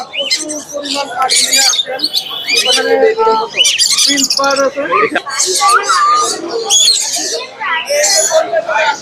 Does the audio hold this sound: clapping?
no